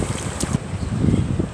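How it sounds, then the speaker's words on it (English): Strong wind at the beach roars across the microphone in uneven low gusts, with the wash of ocean surf beneath it. "the wind is extremely strong today"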